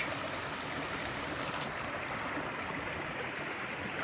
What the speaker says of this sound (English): What a pretty creek.